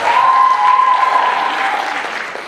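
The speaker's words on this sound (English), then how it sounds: "Please give another round of applause for our sophomores and for BSA and PSA." Loud, sustained audience applause at a live campus performance event, dense clapping that holds steady then slowly fades.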